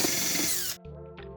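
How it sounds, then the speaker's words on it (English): A power drill bores out M4-size slots in a metal mounting bracket during a DIY CO2 laser cutter build, a loud steady whine that cuts off abruptly, leaving a quieter hum with a brief second burst. "but this time I'll just drill them out."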